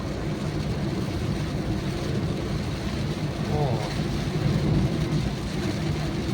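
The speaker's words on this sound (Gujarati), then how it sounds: "ફૂલ વરસાદ આવ્યો." Heavy rain drums on a car driving along a highway at night, a steady loud wash of water and road noise filling the whole clip.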